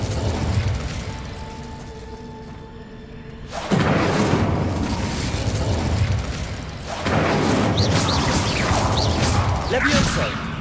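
Incendio fire spell cast in Hogwarts Legacy: a sudden loud whooshing burst of flame follows a quieter stretch, and a second fiery surge comes a few seconds later, with crackling flares over a low rumble.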